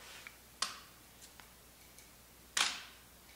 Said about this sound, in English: Second press opens the shutter.